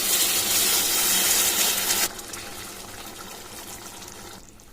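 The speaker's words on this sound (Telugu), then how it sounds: "ఆ తర్వాత మనం గ్రేవీకి సరిపడా వాటర్ వేసుకోవాలి" Water gushes and splashes into a brinjal and green chilli masala curry in the pan, loud for about two seconds, then settles into a softer bubbling simmer.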